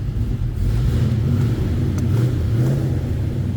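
A 1963 Chevrolet Corvair convertible restomod with EFI revs steadily, a loud close low engine rumble held across the whole short stretch with slight swells in pitch.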